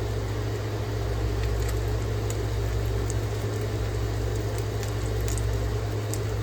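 Fritter batter for Venetian Carnival fritters (fritole) sizzles steadily in hot frying grease, a continuous crackling hiss over a low hum with no talking.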